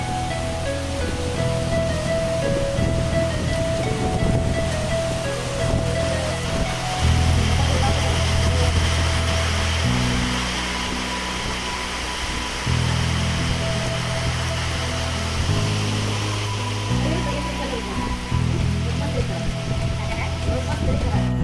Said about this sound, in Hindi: मौसम अभी भी बारिश हो रही है हल्की हल्की।